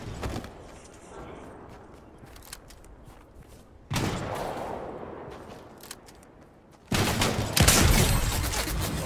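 Bursts of Fortnite gunfire, a quieter rattle of distant shots at first, then a sharper volley midway and a loud, close barrage near the end, with no talk.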